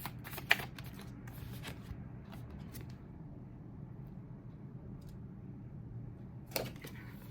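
Tarot cards shuffled by hand close up, a few sharp riffling flutters near the start, a quiet stretch with soft handling, then another brief burst of card riffle.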